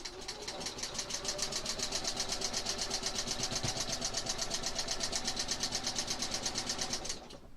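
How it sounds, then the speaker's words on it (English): A sewing machine runs steadily for about seven seconds, stitching pieces of a quilt block, with a fast, even, mechanical chatter close by that stops abruptly near the end. "Feet down, needle down. Let me stitch this."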